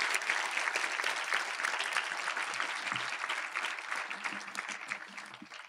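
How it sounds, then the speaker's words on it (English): A room full of people applauds for IPPAM members at a 20th anniversary celebration, dense sustained clapping that stays loud and even before easing off slightly at the end. "could you give all these people a wonderful round of applause?"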